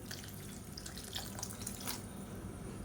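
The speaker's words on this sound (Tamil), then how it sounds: "இப்போ தண்ணி சேர்த்துக்கலாம்." Water being poured into a cooking pot while making green turkey berry sambar gives a soft, faint splashing trickle with a few brighter gurgles, heard alone and at a low level.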